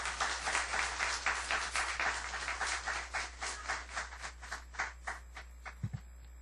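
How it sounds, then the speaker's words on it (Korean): An audience claps together, loud and dense at first, then thinning into scattered claps that fade away. "한번 박수로 환영하겠습니다."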